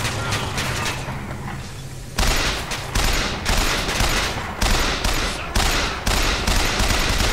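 Heavy gunfire from Bioshock Infinite, sustained bursts of loud automatic shooting with repeated sharp onsets, filling the whole stretch with dense, close-sounding fire and booming impacts.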